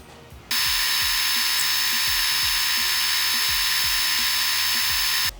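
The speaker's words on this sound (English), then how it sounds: "We're going to bring it over to the belt sander and we're going to fix it up." A belt sander starts up with a sharp onset and runs loud and steady for about five seconds while shaping a foam ring, its high whine holding constant before cutting off.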